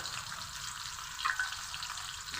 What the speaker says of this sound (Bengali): সবগুলো মশলা ভালো করে কিছুক্ষণ কষিয়ে নেব